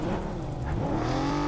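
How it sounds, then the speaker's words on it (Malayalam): A tractor in the mobile battle game BGMI roars along with a loud, continuous engine drone whose pitch shifts slightly as it drives, filling the short moment without any speech. "ട്രാക്ടർ"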